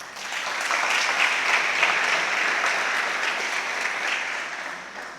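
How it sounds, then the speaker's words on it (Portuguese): Audience applause at a church service fills the space with steady, loud clapping, sustained without a break and with no voices standing out. "Dá um aplauso a ele."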